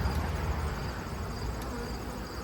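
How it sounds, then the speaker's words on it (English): Honey bees swarm around a healthy, well-populated hive colony in early winter, producing a dense, steady, close-up buzzing drone with no pauses. "This colony, on the other hand, looks very good. Lots of bees."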